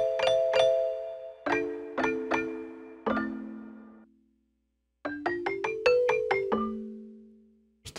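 Mellotron flute sample played on a Nord Electro 6D keyboard. Two short groups of clear, separate notes ring with soft decays; the second group is a quicker rising run that ends on a held note fading into silence.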